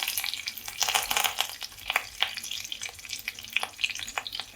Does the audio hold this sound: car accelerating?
no